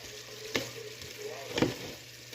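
Ground cumin, mace and nutmeg sizzle steadily in a frying pan while being stirred, with two distinct scraping strokes of the spoon rising above the soft, constant frying hiss.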